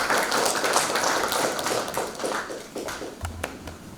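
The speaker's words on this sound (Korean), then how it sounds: "박수로 맞이해주시기 바랍니다" Scattered clapping from a small audience at a Gwangju tourism lecture welcoming a Honam University tourism management professor to the stage, a sparse patter of individual claps that thins out toward the end.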